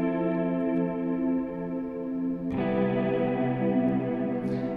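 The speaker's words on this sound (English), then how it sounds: "So the guitar sounds like this." Two sustained guitar chords ring out, drenched in chorus and effects, with the second chord striking in abruptly halfway through.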